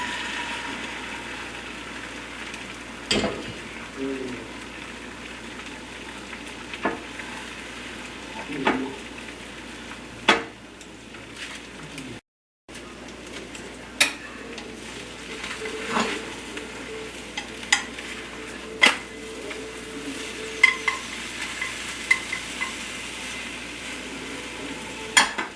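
Tamagoyaki egg mixture sizzles and fries steadily in a pan, a soft constant hiss broken by occasional clicks and scrapes of utensils against the pan, with no talking.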